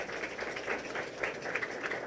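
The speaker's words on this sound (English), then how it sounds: "Please give another round of applause for them." A conference audience applauds, a fairly soft, steady patter of many hands clapping with a few louder claps rising out of it, heard from some distance.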